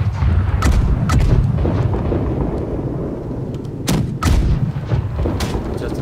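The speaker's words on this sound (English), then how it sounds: "Left side cannons." Ship cannons fire in the naval video game Blackwake, booming several times in heavy, rumbling blasts spread across the clip, with a couple of sharper reports standing out near the end.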